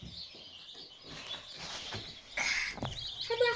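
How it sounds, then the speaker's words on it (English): Baby chicks in a brooder give a few faint, high chirps and peeps over quiet rustling and background noise, growing a little louder toward the end. "these chicks are going to be Arthur's little pet project"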